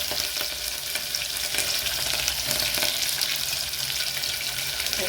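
Onion fries in a pan with a dense, continuous sizzle and occasional stirring scrapes, steady and close throughout, without speech.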